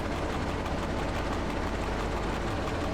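Locomotive in the train simulator Train Driver 2 running steadily, a constant loud low rumble with broadband engine and rail noise throughout, no talk.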